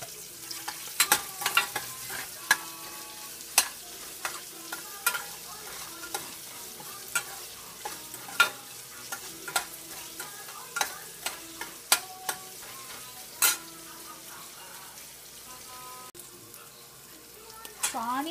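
Onions with salt sautéing in a pan for a mango pachadi, a low continuous sizzle punctuated by sharp, irregular scrapes and taps of a spoon stirring, close and unaccompanied by talk.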